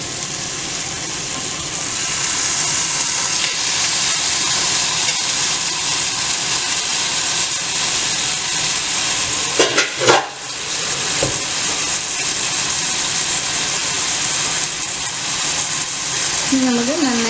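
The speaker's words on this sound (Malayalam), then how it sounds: "കഴുകി വെച്ചിരിക്കുന്ന ചിക്കൻ ഓരോന്നായിട്ട് ഇട്ട് കൊടുക്കാം" Chicken pieces for a Kerala-style nadan chicken curry drop one by one into a hot pan of gravy, giving a steady loud sizzle with a brief burst of clatter midway.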